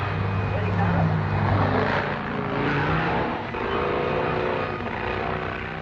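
A 1962 racing car roars away from a pit stop after refuelling, a dense, loud engine noise that holds steady throughout, with a voice talking over it.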